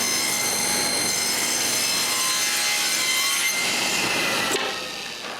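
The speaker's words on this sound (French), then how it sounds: "Je coupe cette feuillure avec 2 coupes." A saw cuts a rabbet into a wooden workpiece with a loud, steady, high-pitched whirring rasp. The sound holds continuously, then tapers off as the cut ends.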